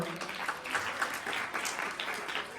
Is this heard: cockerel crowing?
no